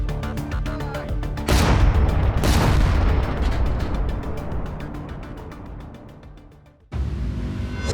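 A Ukrainian artillery gun fires in the field, with loud deep booms that roll off into long fading rumbles, one blast after another and a third sharp report near the end.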